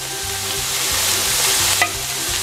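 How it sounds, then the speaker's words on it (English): Bacon sizzles steadily in a frying pan, rendering its own fat with no oil added, a constant crackling hiss with a faint clink partway through. "you'll notice that it's starting to sizzle"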